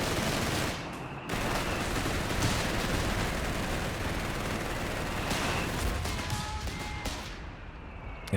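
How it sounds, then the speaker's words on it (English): Mortar and gunfire crash through a Company of Heroes 3 battle, a continuous barrage of explosive bursts with brief sharp hits and a short lull near the start. "mortar doing some big work still, even after the nerf"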